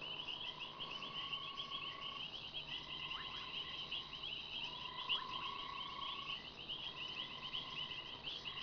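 High-pitched purring trills from frogs repeat in overlapping bursts, with lower croaking calls beneath, steady night-chorus texture at moderate distance.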